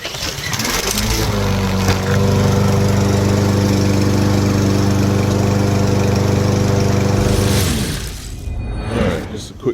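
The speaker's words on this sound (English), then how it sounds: "There we go. Let's start it." A Briggs & Stratton lawn mower engine, just fitted with a replacement flywheel, catches and runs with a loud, steady droning hum for several seconds before winding down and stopping.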